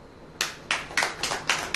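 A church audience claps along in a steady beat, roughly six sharp hand claps spaced about a quarter second apart, crisp and fairly close, with no voices over them.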